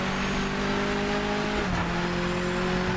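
Race car engines drone loudly in the Project Motor Racing video game, a steady tonal whine from the driver's car that dips in pitch partway through as another car runs alongside, with no talking.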